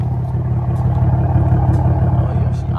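A Pontiac Grand Prix GT engine idles steadily at close range, a continuous low rumble with no revving or breaks.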